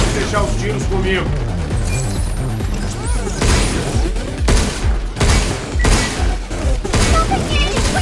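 Gunfire in the video game Pragmata, with sharp bursts of shots and crashing impacts layered over game music and effects, loud and close, while a voice speaks over the action.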